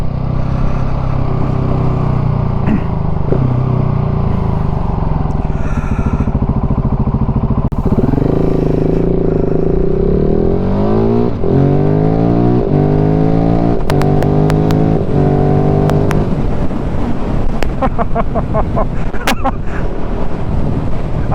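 KTM 690 SMCR single-cylinder motorcycle fitted with a 15-tooth front sprocket, engine revving up through rising pitch sweeps and shifting gears under heavy wind buffeting, loud and close throughout.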